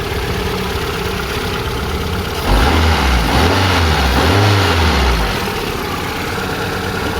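Kia Visto engine idling steadily close by, with a low wavering whine from the power steering pump, which is running low on oil, rising and falling midway through.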